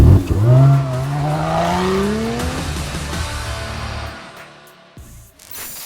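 A 2022 Lotus Emira sports car drives past loudly, its engine note rising through a sweeping pitch before fading away over a few seconds.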